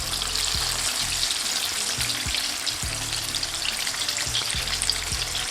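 Chicken pieces for Nashville hot chicken fry in oil, giving a loud continuous crackling sizzle with occasional low thumps as the pieces are turned.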